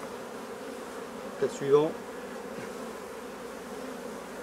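Honeybees hum steadily in an open hive during a colony inspection, a soft continuous drone with a brief louder buzz as one flies near; someone speaks briefly over it.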